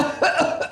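A person gives a single short, harsh cough on command during a doctor's examination. The cough is close and loud, with no talking around it.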